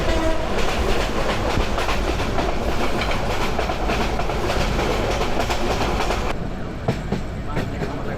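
The Mohanagar Godhuli express runs fast along the rails in Bangladesh, a loud, dense rumble and clatter of wheels heard from on board, easing slightly toward the end, with voices faintly beneath.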